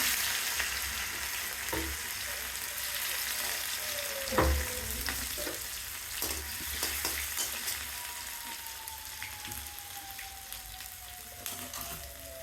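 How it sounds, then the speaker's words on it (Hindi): Ginger garlic paste with cumin and asafoetida frying in hot oil in a home kitchen. A soft, steady sizzle runs throughout, broken by occasional spoon scrapes and stirring clicks, all fairly quiet. "उसके बाद जीरा अदरक लहसुन का पेस्ट बनाया था वो डाल दिया।"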